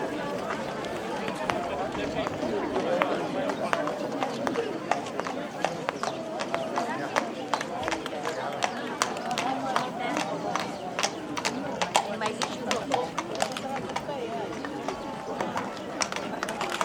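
Bianca, a horse ridden by Oana Mădălina, gallops in an Easter horse race at Târgoviște. Rapid hoofbeats pound steadily over a murmuring outdoor crowd, close and continuous throughout.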